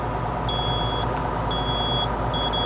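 Three thin, high electronic beeps from a potato planter machine repeat at even intervals over a constant loud mechanical rumble on a farm.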